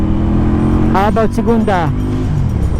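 An FKM Coolser 500 motorcycle with its stock muffler runs close by as a steady, subdued engine drone that rises in a few quick revs, while a rider talks over it.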